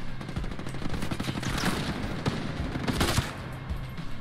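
Automatic gunfire rattles in dense, continuous bursts during a firefight in the video game Ghost Recon Breakpoint, loud and close, with overlapping shots and booms and no speech.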